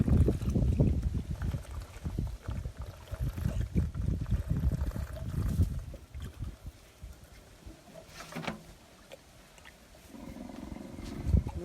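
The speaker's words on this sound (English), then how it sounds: "Rumbling in delight for her next bottle." A baby elephant at an orphan nursery rumbles low and deep in several throaty bursts with quieter gaps, heard close by against faint outdoor background noise.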